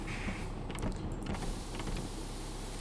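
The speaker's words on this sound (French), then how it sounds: "on ferme nos portes." Bus doors closing in the driving game Bus Simulator 16: a mechanical creak and clunk of the door mechanism sliding shut, heard alone over a steady engine hum.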